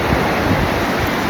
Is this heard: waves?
yes